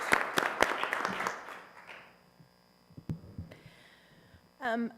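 Brief round of applause from attendees at a school board of education meeting, dense clapping for about two seconds that quickly thins out, followed by quiet room sounds and a short voice near the end.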